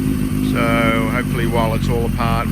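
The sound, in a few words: Suzuki GS750 motorcycle engine idling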